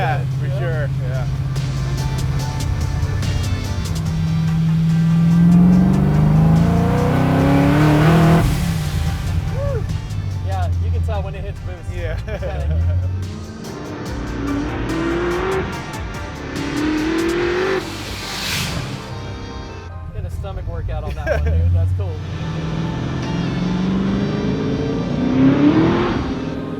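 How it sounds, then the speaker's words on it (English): A supercharged 1970 Chevrolet Chevelle accelerates hard in repeated pulls, engine note rising and falling loudly from inside the car with the wastegate working, while people talk over it throughout. "That wastegate's working hard."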